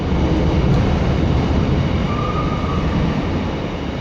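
A train rumbles past close by in a steady, continuous roar of rolling wheels and rail noise that never lets up, with no voices.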